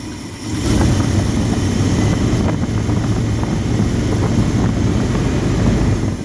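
A 1979 Chevy C10 with a small block 350 V8 idles steadily and smoothly, a dense low rumble that rises in level after half a second and then holds constant, with no talking.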